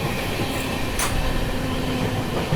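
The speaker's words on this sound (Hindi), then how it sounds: "ट्रेन अपनी अभी दादरी स्किप करने जा रही है" Heard from onboard, the Humsafar Express runs at speed past Dadri station with a continuous rushing rumble and faint wheel clatter, steady and close throughout.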